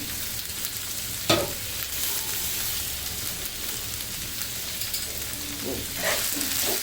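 Meat and potato curry fries in a pan with its gravy, giving a steady, close hiss of sizzling, a sharp utensil knock early on and a few stirring scrapes later.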